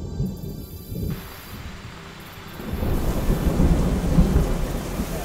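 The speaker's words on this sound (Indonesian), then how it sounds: "Hujan dah" A thunderstorm rolls in with deep thunder rumbles, followed by heavy rain pouring steadily and loudly onto surfaces, building in intensity toward the end.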